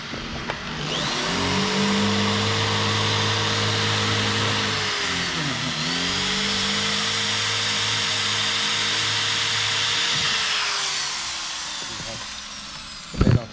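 Power drill boring holes while a subwoofer box is installed in an Isuzu D-Max 2021 pickup, a sustained whining motor close by that dips briefly mid-run and stops near the end.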